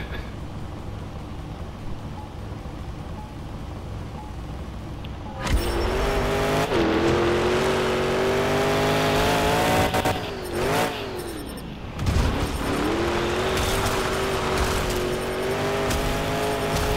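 A monster truck engine in the Monster Jam Showdown video game idles quietly, then bursts into loud sustained revving with rising and falling pitch sweeps, a couple of dips and throttle blips throughout.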